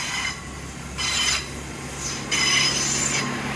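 Great Western Railway train 800 006, with a loud diesel engine, pulls out of the station. A steady rumble and a hiss of wheels swell and ease in waves, close and continuous, with a high squeal running along the rails.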